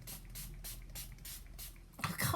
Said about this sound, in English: I can't spray and speak.